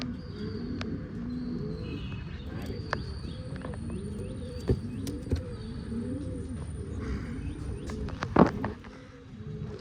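Rajgurunagar pigeons coo over and over in soft, overlapping rolling calls, close by, with occasional chirps and small knocks in the background.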